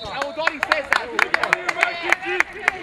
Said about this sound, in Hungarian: Neki járt a taps.